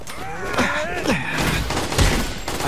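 Ionic webbing attack in The Amazing Spider-Man 2 video game bursts out amid loud, dense combat effects, rapid zaps and thuds layered over a constant rumbling game soundtrack.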